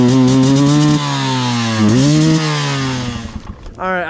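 A 2022 Beta 200RR Race Edition two-stroke dirt bike engine idles and revs after an idle adjustment, its steady buzzing note rising and falling close by, then dropping and picking back up near the end.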